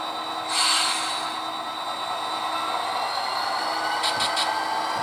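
A locomotive pulls away in a train simulation game with a steady rolling rumble and hiss, and a brief cluster of bright metallic tones near the end.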